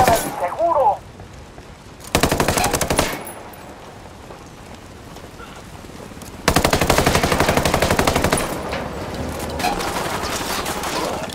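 Heavy automatic gunfire in a video game firefight breaching a chemical institute, rapid close bursts of machine-gun fire in two long stretches with quieter gaps between, and shouted voices in the mix.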